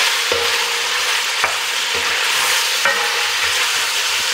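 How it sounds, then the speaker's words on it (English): Bacon and onion stirred and scraped across the bottom of a pot over high heat, a steady frying sizzle broken by several distinct scrapes of the spoon, close and loud with no talking. "I'm scrubbing the bottom of the pot a little bit"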